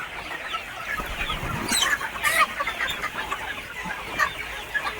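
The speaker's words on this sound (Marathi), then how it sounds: "ह्याला तर गावरान कोंबड्या म्हणायचं." Free-range desi village chickens cluck and chatter in a yard, several birds calling at once in a steady, busy stream of short nearby clucks over faint outdoor background.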